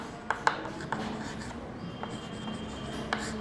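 Someone writes on a board in a classroom, making soft scratchy strokes and a few sharp taps as the marker or chalk meets the surface, quiet and irregular against faint room noise.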